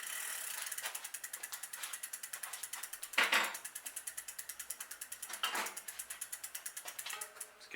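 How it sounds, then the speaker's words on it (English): A ratchet wrench clicks rapidly and evenly while a wheel nut is tightened on an S&M Motoman bike, a close, crisp series of ratcheting strokes with two brief louder bursts partway through. "Let's get my wheel tightened up again."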